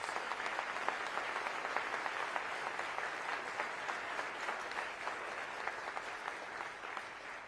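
A room of attendees at Milwaukee County's State of the County address applauds steadily, a faint, even wash of many hands clapping that holds without pause.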